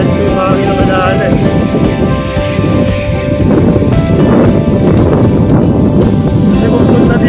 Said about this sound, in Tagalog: Dito, medyo yung hangin ang madaanan.